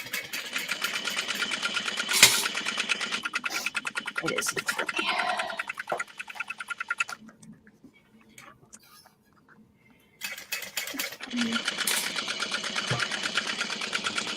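Sewing machine running in bursts while top stitching, steady rapid mechanical chatter near and fairly loud, pausing into quiet briefly before resuming, with brief speech in between.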